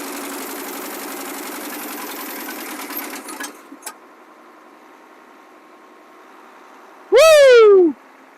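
A 1979 Chevy C30 Squarebody truck engine chugs in a rough, rhythmic run for a few seconds, then drops to a faint steady hum, before a loud whooping voice cuts in near the end.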